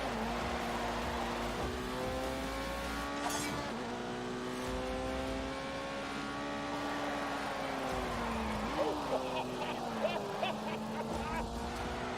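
Car engine during drifting in The Grand Tour Game, a four-wheel-drive, rear-wheel-steer car droning steadily with pitch rising and dipping as the throttle shifts, while someone talks over it.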